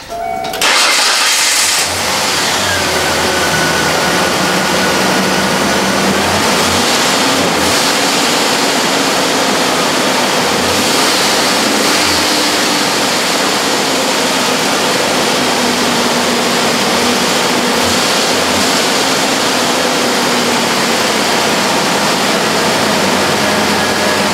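A Ford Explorer's engine cranks and catches within the first two seconds, then runs steadily with a loud, continuous rumble and a slight stumble, close to the listener and with no talking.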